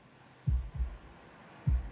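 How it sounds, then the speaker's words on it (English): Film soundtrack heartbeat used as suspense music: three deep, thudding low pulses spaced irregularly over a faint steady hum, each beat a soft double thump, with no voices. "The heartbeat starts, and as he's more and more afraid, the heartbeat goes even more."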